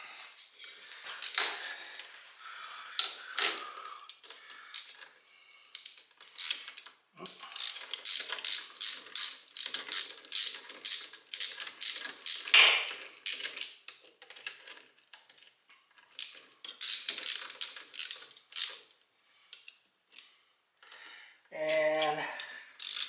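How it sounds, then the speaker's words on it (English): A hand ratchet tightens bolts on a quick-ratio Jeep power steering gearbox fitted to a 1968 GTO, clicking in rapid runs of strokes with short pauses between bursts, close and alone. "let me go ahead and get the bolts in this thing"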